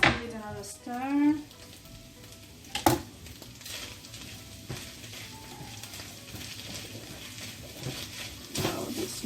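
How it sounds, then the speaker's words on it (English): Beef and vegetable empanadilla filling with egg sizzles steadily in a pan while being stirred, with a few spatula knocks; a voice talks briefly at the start. "Let's give it another stir."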